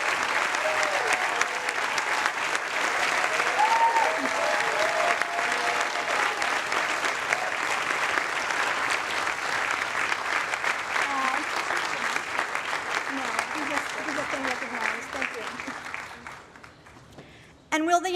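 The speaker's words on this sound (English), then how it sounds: "Let's give her a round of applause." Sustained, steady applause from a large audience at the Harvard University commencement afternoon exercises, filling the space for about fifteen seconds before tapering off near the end.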